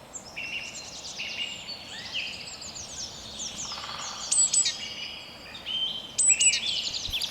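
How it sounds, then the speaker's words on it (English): Birds chirp and sing continuously in a forest, with several overlapping calls and a couple of brighter, louder phrases near the end. "The bird song,"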